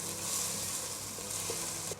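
Spices with ginger and ajwain frying in hot oil for a shrimp curry, a steady close sizzle with faint stirring scrapes and no talk throughout.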